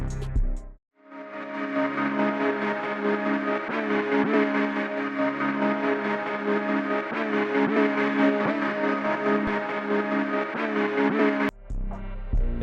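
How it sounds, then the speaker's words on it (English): A looping melodic beat passed through a cassette-style plugin plays as a sustained, harmonic tone peppered with random snapping, scratchy clicks, then cuts off abruptly near the end. "a plugin called Cassette that makes a cassette effect that scatters the random snap effect in random places, creating a scratch effect"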